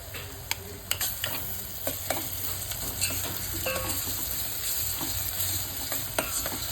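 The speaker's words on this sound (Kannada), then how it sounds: "ಈಗ ಇದಕ್ಕೆ ನಾನು ಮ್ಯಾಂಗೋ ತುರಿದಿಟ್ಕೊಂಡಿದ್ದ ಮ್ಯಾಂಗೋ ಹಾಕ್ತಾ ಇದ್ದೀನಿ" Grated mango being added to millet rice in a hot pan and stirred, with soft sizzling under repeated close scrapes and clinks of a spoon against the pan, and no talking.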